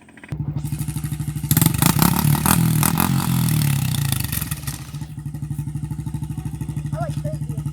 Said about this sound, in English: Now he's gonna ride the dirt bike.